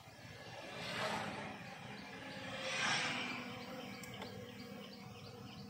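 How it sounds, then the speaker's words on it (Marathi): Birds chirp faintly beside a small waterfall in the Konkan region, soft calls rising twice over a constant rush of falling water, with a brief sharp chirp near the end. "पक्ष्यांचे आवाजही आहे."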